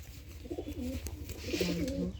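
A Dum breed pigeon coos twice in soft, rolling bursts, close by, with a faint background hum.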